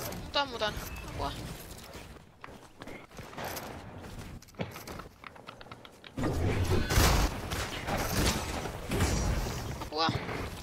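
Sporadic gunshots crack through a busy video game soundscape while excited voices talk and shout in Finnish over them.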